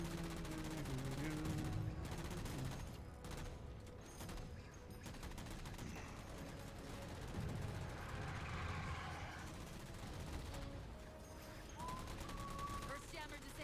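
Rapid video game gunfire shooting down three jammers, with loud bursts and sustained fusillades under continuous talk.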